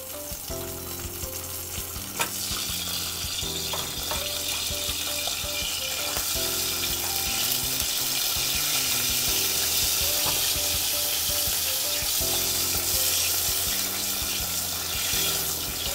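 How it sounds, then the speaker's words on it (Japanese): Anchovies and capers frying gently in oil over low heat for a sea-urchin-flavoured tomato cream pasta, a steady soft sizzle with faint clinks over a continuous backdrop of music throughout. "弱火でしっかりと炒めます"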